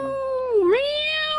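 A cat meows once with a long, drawn-out, wavering call that dips in pitch midway and then rises again, loud and close, with no voices.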